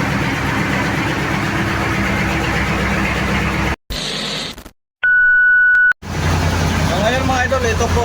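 A single boat engine runs at a steady drone out at sea, interrupted by brief dropouts and a short electronic beep partway through.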